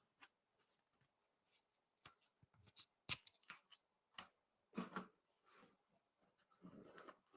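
Two strips of tape pulled and torn off in quick succession, sharp close ripping bursts with small rustles and handling noises in between, no talk.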